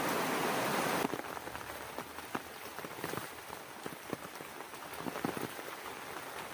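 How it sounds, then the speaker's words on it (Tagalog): Rain falling hard outdoors during an approaching typhoon, a dense steady patter with scattered louder drops, close and continuous with no talking. "bigla kasing umulan."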